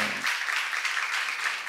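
A church congregation gives a brief, dense burst of clapping, a continuous wash of applause lasting under two seconds.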